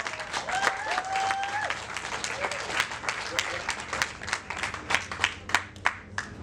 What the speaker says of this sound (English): Let's give a round of applause for Shakespeare.